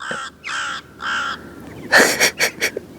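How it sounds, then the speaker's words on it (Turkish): A bird at Mert Lake in İğneada's Longoz Forest calls out three drawn-out cries, then a quick burst of harsher caws, near and fairly loud over quiet outdoor background. "kuş Mert, Mert, Mert diye bağırıyormuş."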